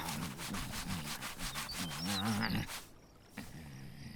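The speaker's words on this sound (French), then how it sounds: "Je frotte de toutes mes forces, mais ça ne change rien" Someone scrubs hard with all their strength in an animated cartoon scene, giving a rhythmic, rasping back-and-forth rubbing that repeats about a dozen times and then stops.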